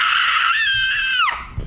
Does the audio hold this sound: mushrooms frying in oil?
no